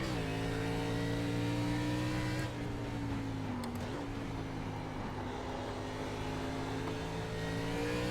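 An ARCA race car engine at Summit Point in the iRacing sim, a loud, steady droning roar with rich harmonics that dips briefly in pitch midway as the throttle eases, then holds on.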